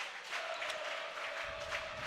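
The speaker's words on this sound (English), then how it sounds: "The cheering section's loud." Crowd cheering at a high school volleyball match between Elder and St Xavier, a steady roar of voices and cheering filling the gym, held at a fairly even level throughout.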